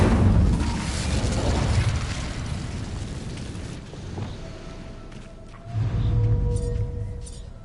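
Incendio fire spell cast in the video game Hogwarts Legacy, a loud roaring, rumbling burst of flame that swells, fades, then flares up again near the end.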